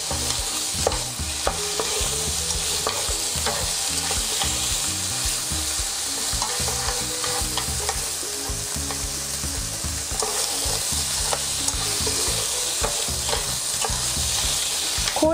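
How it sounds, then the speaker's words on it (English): Pork sizzles and fries in a pan for Korean black bean noodles, a loud, steady hiss with frequent scrapes and clinks of stirring throughout. "Okay, let's fry pork."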